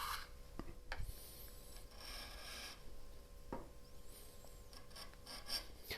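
Hand sanding chamfers and breaking edges on wood pieces in a hand-tool-only workshop, steady close rasping strokes with a few knocks, alone with no talking.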